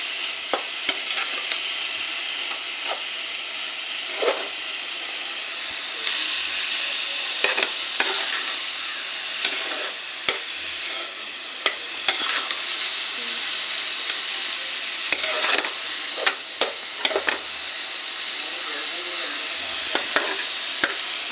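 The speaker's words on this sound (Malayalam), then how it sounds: "ഇളക്കണം കേട്ടോ, അടി പിടിക്കാതിരിക്കാൻ വേണ്ടിയിട്ട്." Food frying in a pan is stirred for a long stretch, with a steady hissing sizzle throughout and frequent light scrapes and taps of the spoon against the pan.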